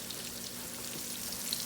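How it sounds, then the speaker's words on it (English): Breaded chicken cutlets frying in a warm pan, a steady close sizzle and crackle of hot oil, even and unbroken throughout with no talking. "the other cutlets that we breaded for the chicken picatta gonna go in here"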